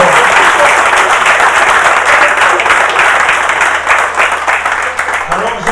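Sustained audience applause from a seated crowd at a talk on success, loud and dense throughout without pause.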